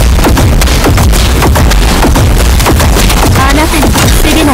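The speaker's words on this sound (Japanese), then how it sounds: "銃声よ、気を引き締めて。" Rapid bursts of loud gunfire and booming impacts crack out in quick succession, dense and close, in the mecha action game Super Mecha Champions.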